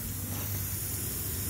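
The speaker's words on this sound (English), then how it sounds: "I'll turn that nozzle back on and see if we can get this covered in here." Steady, continuous hiss of water spraying from a sprinkler nozzle on a broken riser, close by and unbroken for the whole stretch, with a low rumble underneath.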